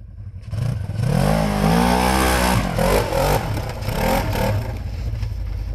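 An off-road vehicle engine on a muddy trail ride, loud and close, rising from idle into a long strained rev with rising and falling pitch and some clatter, sustained for several seconds without talking.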